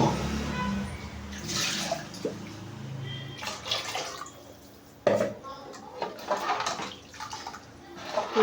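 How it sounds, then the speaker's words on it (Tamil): Water is poured into a simmering ground-masala fish curry in a cooking pot. Soft splashing and trickling mix with occasional clinks of utensil against pan, with one sharper knock midway. "கொஞ்சம் தண்ணி ஊற்றிக்கலாம். கெட்டியாக இருக்குது."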